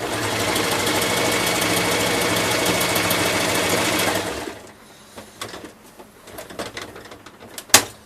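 A Kenmore 385 sewing machine runs a wide zigzag stitch at about 2.5 length, a loud steady whirring drone for about four seconds, then stops, leaving faint handling clicks and a sharp knock near the end.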